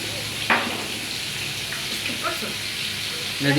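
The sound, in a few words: fish frying lightly in oil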